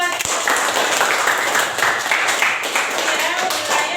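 Classroom students clap for a moment during a teaching lesson, a brisk patter of many hands at close range, fairly loud and steady throughout.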